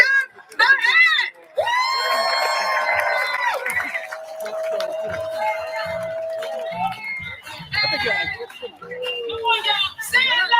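An audience cheers and whoops to welcome Dr. Mahan, an engineering professor at Morgan State University, onto a stage. Loud, excited shouts and yells rise and fall for about ten seconds, with individual voices standing out above the crowd.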